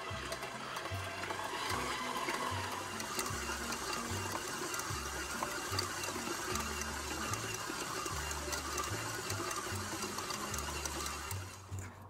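A stand mixer running at its highest speed kneads bread dough with no dairy in it. It makes a steady, fairly quiet motor whir with a rhythmic low thumping as the dough turns, and the sound carries on unbroken with no talking.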